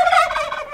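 Turkeys gobbling on a farm, one loud close rattling gobble filling the brief moment, with no talk over it.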